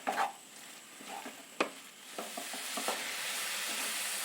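Cardamom, cumin and grated coconut are stirred in a hot pan with soft scrapes and one sharp clack, followed by a steady hissing sizzle that builds and holds.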